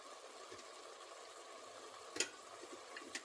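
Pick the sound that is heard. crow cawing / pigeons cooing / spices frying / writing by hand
spices frying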